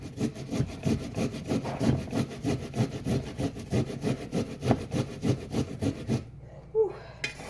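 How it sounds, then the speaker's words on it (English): A chunk of fresh ginger is grated in a steady, rapid back-and-forth rasping rhythm up close, stopping abruptly near the end followed by a brief faint sound. "Now we have this chunk we're going to start grating."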